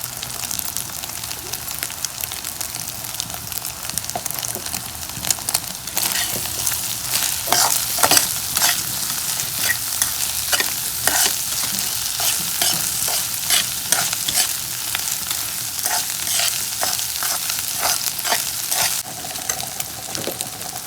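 Cauliflower and egg fry in a pan with a steady, close sizzle, punctuated by repeated scraping and stirring strokes over roughly twenty seconds; no voices.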